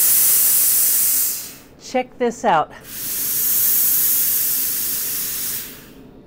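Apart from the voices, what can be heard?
Laurastar double heated steam iron releasing steam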